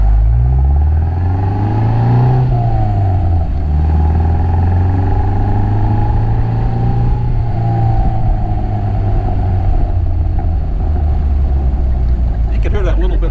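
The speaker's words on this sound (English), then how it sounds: "You can hear that little bit of burble in the exhaust." A 1960 MGA 1600 sports car's engine drones steadily while driving, with a low exhaust burble and a brief rise in revs early on.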